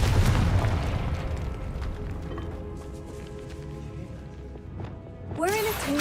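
A Confringo fire spell from the Hogwarts Legacy video game blasts loudly at the start, then rumbles and fades into a low, droning tail, with a short swooping tonal sound near the end.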